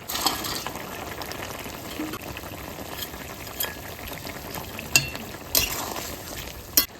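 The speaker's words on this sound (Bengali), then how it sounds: "আলু প্রায় সিদ্ধ হয়ে আছে এবার আমি মাছটা দিয়ে দেবো" A pot of potato curry boils with a steady bubbling simmer throughout, with fish being added and a few sharp splashes and clatters near the end; no one speaks.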